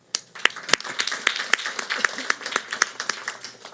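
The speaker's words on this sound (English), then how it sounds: "That deserves a hand clap." Scattered clapping from a small audience at a community talk about teen parents and food programs, distinct separate claps in an uneven rhythm rather than a full ovation, moderately close.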